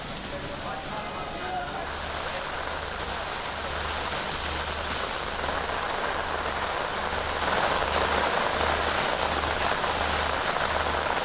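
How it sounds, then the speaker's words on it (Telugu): Heavy monsoon downpour over the streets of Himayat Nagar in Hyderabad, a dense, steady hiss of rain that swells slightly louder toward the end, with a faint low rhythmic pulse beneath. "హిమాయత్ నగర్లో వర్షం పడుతోంది."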